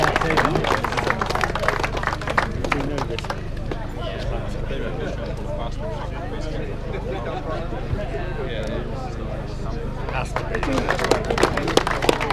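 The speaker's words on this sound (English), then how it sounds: "Brilliant round of applause then, guys." A crowd at a downhill mountain bike race in Hopton Woods claps and cheers for the winners, a continuous wash of applause with chatter and a voice over it.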